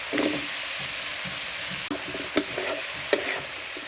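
Bottle gourd stems, potatoes and spices fry in a pan for a village-style rui fish curry, giving a steady close sizzle with soft stirring scrapes and a few sharp knocks of the utensil.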